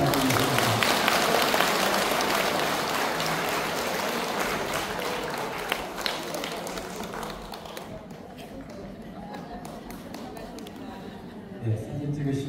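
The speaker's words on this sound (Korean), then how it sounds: "오늘 나오신 법원님께 차타리 박수 한번 부탁드립니다" A congregation at a Buddhist temple service in Korea claps in a sustained round of applause that gradually thins and fades, with voices and murmured talk mixed in throughout.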